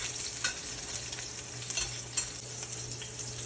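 Salmon burgers fry in a hot pan with a steady, close sizzle and soft crackle throughout, with no talk over it.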